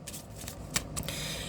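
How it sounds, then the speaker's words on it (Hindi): Tarot cards being shuffled by hand, a brief run of quick papery riffling flicks with a couple of sharper snaps, close and soft. "Last shuffle."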